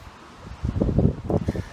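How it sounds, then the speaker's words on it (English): Gusts of wind buffet the microphone in low rumbling bursts, building after a quieter start and pulsing unevenly outdoors. "Oh, we're getting windy here now."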